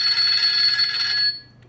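A Powertech Sentry 3 PTM-10 mobile phone plays a loud, bright electronic ringtone for about a second. It then stops abruptly and leaves near silence.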